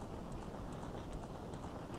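Ganondorf's black horse gallops through fire in Zelda: Ocarina of Time, its hooves giving a quick, steady clip-clop that runs continuously over the game's background noise, with no voices.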